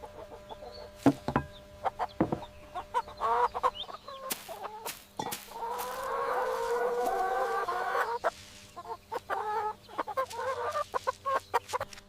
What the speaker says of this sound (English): Chicken pecking basil leaves slowly as a small part of a varied diet.